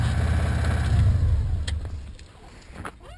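A Subaru Legacy engine runs with a steady low mechanical drone that fades partway through, leaving faint ticks and a quieter background.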